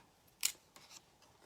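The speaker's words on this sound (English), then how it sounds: "fun little zigzaggy scissors somewhere" Zigzag scissors trim paper in one sharp, crisp snip near the mic, followed by a few fainter rustling cuts in a quiet room.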